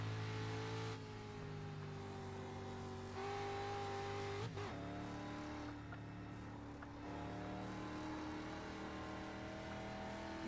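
Street Stock race car engine in iRacing at the Nürburgring Nordschleife, droning loud and steady as it accelerates and revs, with a brief drop and shift in pitch midway before it pulls hard again.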